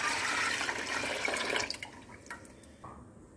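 Cow's milk being poured into a cooking pot set on the stove for aval payasam, a steady liquid pour that runs for about a second and a half, then thins into a few scattered drips and splashes.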